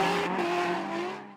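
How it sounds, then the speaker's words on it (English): A car passes close by in one smooth, loud whoosh lasting little more than a second, its tone falling slightly as it fades away. "car pass by"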